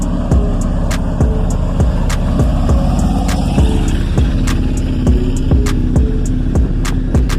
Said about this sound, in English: hold on y'all, this loud truck passing by.